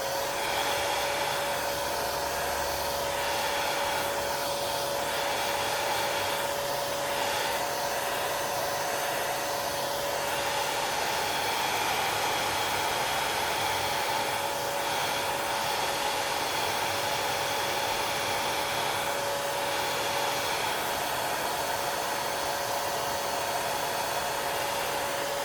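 A hair dryer blows continuously to dry a freshly done painting, a loud, steady whooshing hum with a constant whine running unbroken from start to finish.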